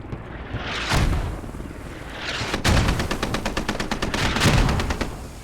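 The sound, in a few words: mortar fire in the video game Squad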